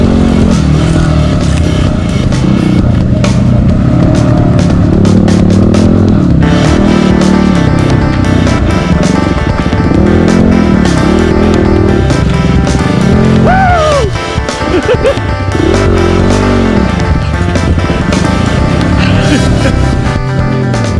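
Yamaha WR250R dirt bikes racing on trails in the Watagans, engines revving hard and close with rising and falling pitch, plus rattles and scrapes as the bikes ride on.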